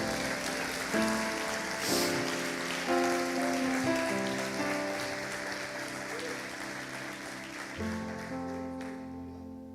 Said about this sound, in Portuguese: Você pode dar uma salva de palmas a Deus, irmão?